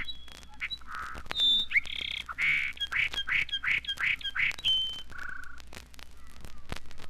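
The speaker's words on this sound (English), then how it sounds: "Wonder what it would sound like played at half speed, down an octave." Bird song slowed to half speed and dropped an octave, a sequence of clear whistled and squawk-like notes, a rapid run of repeated tones in the middle, heard close and alone with no talk.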